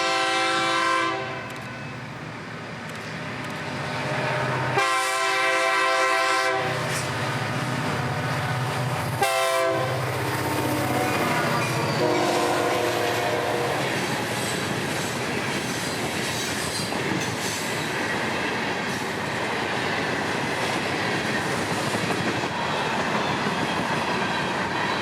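Florida East Coast Railway freight train led by locomotive 920 rolls past with a loud blaring horn in several blasts, then a long rumble of cars and wheel clatter continuing steadily to the end.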